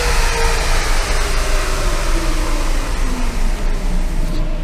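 Turbocharged Ford Transit van on a dyno, slowing down with the foot brake: a loud, steady rolling roar of the rollers and drivetrain, with a faint falling tone as it winds down.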